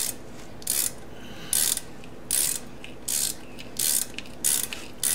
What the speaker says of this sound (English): This is the point where the threads start to really cut.